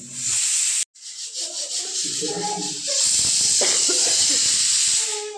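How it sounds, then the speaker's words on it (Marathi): A kitchen pressure cooker on the stove gives off a steady, loud steam hiss for the whole stretch, with someone talking over it and a short break in the sound near the start. "कुकरच्या शिट्ट्या पण व्हायला लागले"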